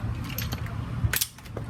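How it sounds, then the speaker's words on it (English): A ratchet backs out a rear brake caliper bolt on a GTI, giving a quick run of close metallic clicks and a couple of sharp clanks, no talk. "So I use the wrench to break it, and the ratchet, just go ahead and take it off."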